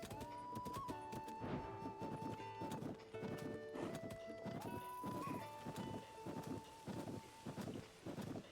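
Horse hooves clip-clop steadily at a brisk, even gait in Zelda: Tears of the Kingdom, continuous and close under sustained game music, with no talking.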